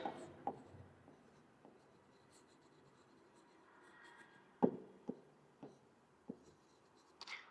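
Pen or marker strokes on a board while a graph is drawn for a biology lesson on gas transport, several short scratchy taps and strokes spaced irregularly, faint and close, with no talking.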